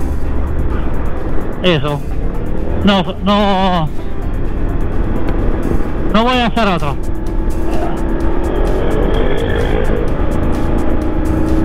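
The engine of a 1999 Triumph Tiger motorcycle idles close by, a steady low hum throughout while someone talks over it in short phrases.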